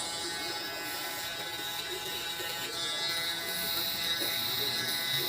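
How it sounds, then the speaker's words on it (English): Close up, an electric shaver trims around the ear and neck in a barbershop during a buzz cut fade. Its steady motor buzz holds at a constant level and grows slightly louder toward the end. "get in there with the shaver"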